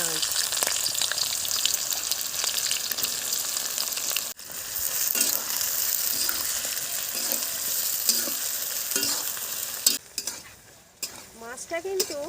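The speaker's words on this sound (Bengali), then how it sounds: "তেলের মধ্যে দিয়ে দিচ্ছি এলাচ, লবঙ্গ, দারুচিনি, তেজপাতা আর অল্প একটু স্টার," Onion and whole spices (cardamom, cloves, cinnamon, bay leaf, star anise) fry in hot oil, giving a loud, steady sizzle broken by stirring scrapes, with a brief drop and crackling toward the end.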